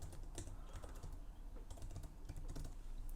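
Quick, steady typing on a computer keyboard while entering a template search in Canva, a close run of light clicking keystrokes over a faint background hum, with no voices.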